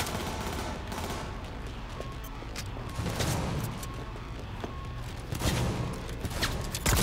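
Gunfire in the video game Cyberpunk 2077, with sharp shots and bursts crackling in a fast, uneven sequence over constant game background noise. Several louder volleys land near the end.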